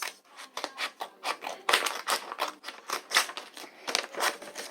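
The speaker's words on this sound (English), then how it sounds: "you are going to use your scissors and cut where you folded" Scissors cutting along a fold in a sheet of paper, a steady series of close, crisp snipping strokes in a quick rhythm with no talking.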